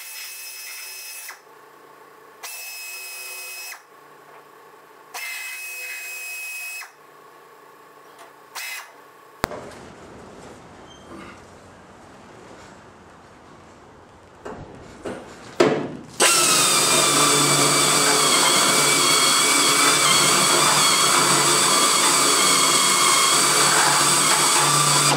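A power tool cuts through a body bracket on a Ford ZF Fairlane during restoration. After quieter stop-start sounds and a few clicks, a loud, sustained harsh cutting roar takes over for the last nine seconds.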